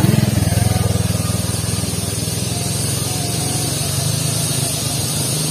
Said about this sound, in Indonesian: banyak motor yang lewat sahabat ini teh